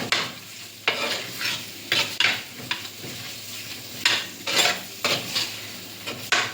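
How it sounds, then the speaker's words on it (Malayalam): Curry leaves are stirred into chicken curry in a pan, with repeated rhythmic scrapes and clanks of a spoon against metal over a low, steady sizzle. "കറിവേപ്പില നന്നായിട്ട് മിക്സ് ആക്കുക"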